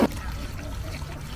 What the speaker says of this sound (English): Give them some fresh water.